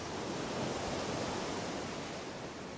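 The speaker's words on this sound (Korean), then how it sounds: "바다 소리 바다 소리" A steady, unbroken wash of sea waves in a video game, a soft, even roar of surf with no distinct breaks and no voices over it.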